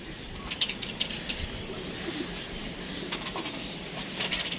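Pigeons in a loft or yard, one of them ailing after flying in strong wind: soft cooing and intermittent wing flaps over a steady breezy background, moderately close.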